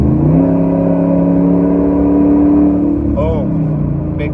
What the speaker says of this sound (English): So, you guys hear that exhaust cut? Puro straight pipe.